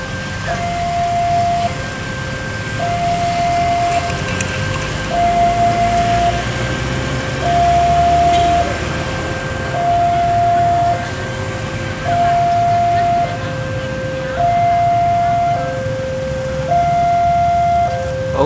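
A repeating two-tone chime at an Indonesian railway station, Delanggu, sounds steadily as the Argo Lawu passenger train from Solo Balapan to Gambir is awaited, over a constant low rumble of background noise.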